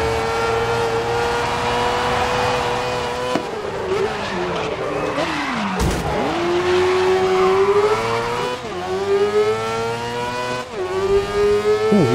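A racing car in a driving video game screams along at high revs, its engine note climbing and dropping through gear changes, with tire squeal and skidding mixed in, loud and continuous.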